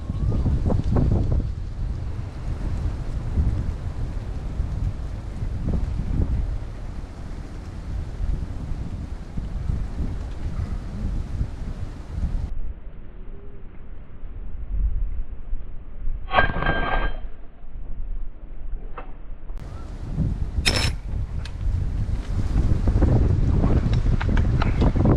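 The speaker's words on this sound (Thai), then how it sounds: "ลมแรงแบบยิงอ่ะ" Strong wind batters the microphone outdoors while fish traps are checked on drained water, making a steady roaring rumble for the whole stretch. Two brief tonal chirps cut through near the end.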